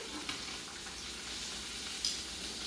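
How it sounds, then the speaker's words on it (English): Seafood simmers and sizzles in a pan for an Italian seafood salad, a steady close hiss with soft bubbling and a couple of faint clinks, no voices. "now since I have this all simmering down, I'm going to move this all in the middle"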